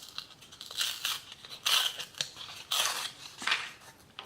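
A brand new blade slicing through paper-faced foam board, a series of short, crisp scraping cuts in bursts, close and fairly quiet.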